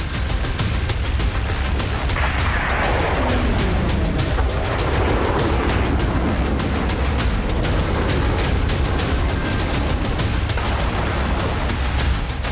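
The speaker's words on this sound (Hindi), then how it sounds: "रोस्तोव के अलग अलग इलाकों में धमाके सुने गए" Explosions in Russia's Rostov region during a Ukrainian ATACMS missile strike: continuous heavy rumbling with dense cracking bursts throughout, blending into a loud, unbroken roar.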